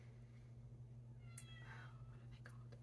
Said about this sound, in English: oh my cat's outside the door